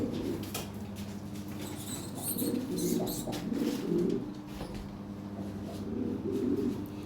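Lahore siraji pigeons coo in low, steady, rolling calls that repeat through the clip, close and moderately loud against a constant background hum.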